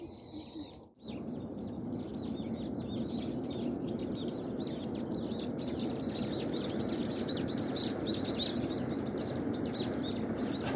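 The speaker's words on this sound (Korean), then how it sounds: "새들이 난리가 났네." Dense, lively chirping from many birds fills the air beside a pear orchard on a farm, a continuous overlapping chorus of tweets after a brief bump at the start.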